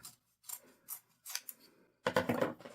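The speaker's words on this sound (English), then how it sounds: "And then I'm just going to cut off the point of the hanky." Scissors snipping the point off a cloth handkerchief: several crisp, separate cuts close to the mic, followed by a longer rustling slice through fabric, with quiet gaps between.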